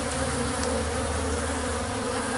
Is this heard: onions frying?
no